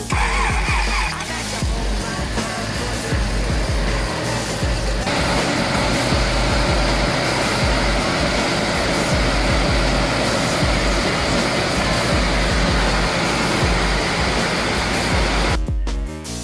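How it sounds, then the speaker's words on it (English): A 1953 GAZ-12 ZIM luxury car's engine runs through a new exhaust, a loud, steady roar with broadband rushing noise held for about sixteen seconds before cutting off abruptly. "Let's fire it up and hear how it sounds with the new exhaust. The engine's roar sure got louder."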